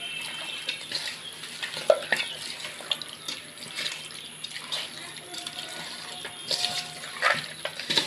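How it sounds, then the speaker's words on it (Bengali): Buffalo meat being kneaded and mixed by hand for curry, giving close, wet, squelching sounds in an irregular rhythm. "এখন এটাকে খুব ভালো করে মেখে নিতে হবে।"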